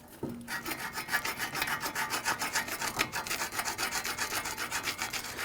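Scaly rust is scraped off an aluminum wheel hub on a 2010-2019 Ford Taurus during a front wheel bearing replacement, making rapid, rhythmic rasping strokes that are steady and close.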